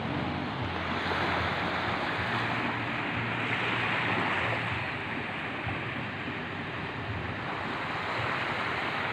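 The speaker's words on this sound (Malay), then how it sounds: "sedang melihat pemandangan laut gelombang" Sea waves roll and wash continuously at a harbour in South Aceh, a steady broad roar of surf mixed with wind buffeting the microphone, unbroken for the whole stretch with no voices.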